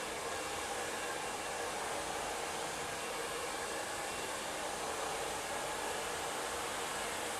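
A hair dryer fitted with a nozzle blows a constant, loud, even roar close by while smoothing hair at the roots, with no break or voices throughout.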